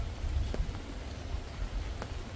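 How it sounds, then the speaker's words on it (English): Steady rain falls at a riverbank during a bream feeder fishing session, a continuous soft hiss with occasional louder drop taps. "and then it rains. It's like that every single Saturday lately."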